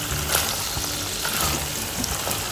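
Onion and garlic fry in oil and butter in a wok with a steady, close hiss and crackle, small pops scattered through the continuous sizzle.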